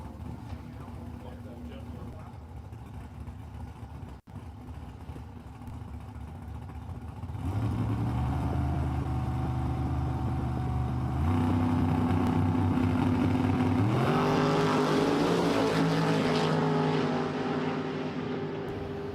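Drag racing cars at Empire Dragway, among them a '92 Lumina, roar with loud, rising engine noise that swells after a quieter stretch and keeps climbing in pitch, with an announcer talking over it.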